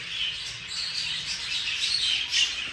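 Male budgerigars, including a grey and a cinnamon green, chirp and warble continuously in a busy, high-pitched chatter from a nearby cage.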